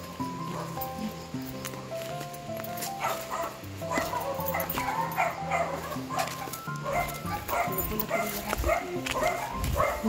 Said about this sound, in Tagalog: malalaman mo talagang may tao kasi tatahol talaga yung mga aso